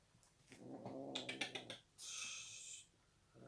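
A cat growls and snarls close by with other cats nearby, a rising grumble breaking into a few short pulses, then a longer harsh hiss, quiet and without talk.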